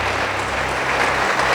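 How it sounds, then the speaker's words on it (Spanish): A church congregation applauds during a Sunday morning service, giving a short burst of dense, continuous clapping heard close and fairly loud. "Démosle un aplauso al Señor en esta mañana"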